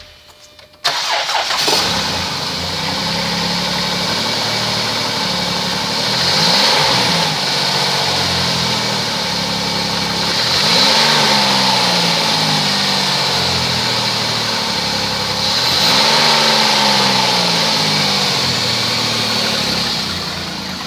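A 2010 Chrysler Town and Country engine cranks and starts, then idles steadily up close with a few gentle rises in revs, running alone with no talk.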